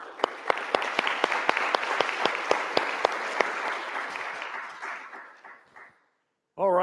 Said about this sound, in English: Thank you to all our panelists, please.